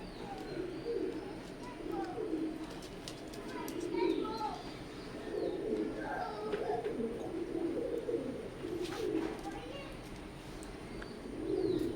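Teddy pigeons coo continuously at close range, a soft steady burbling with a few higher chirps over it and no talk.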